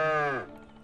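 A single cow moos loudly and close by, a rich drawn-out low call that falls away into a quieter tail, with no one talking over it.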